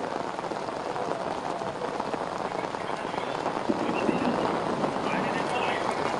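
Heavy rain falls across Hyderabad, a steady dense hiss of drops on surfaces that swells slightly louder partway through, with faint voices in the background.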